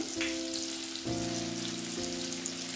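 Chopped tomato and spices fry in hot oil in a pan for a mustard pabda fish curry, giving a steady close sizzle with light stirring scrapes, a faint tonal hum running underneath, and no voices.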